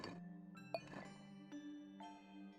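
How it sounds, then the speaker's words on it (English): Doorbell chime in the puzzle game Tangle Tower: a soft, faint set of tonal notes sounding one after another, ringing out and overlapping over a low steady hum. "Doorbell war das hier."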